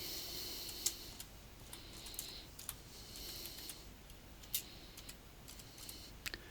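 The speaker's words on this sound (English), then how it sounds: "Click on OK and start typing." Quiet, irregular clicks of typing on a computer keyboard, light close keystrokes in small bursts with short pauses.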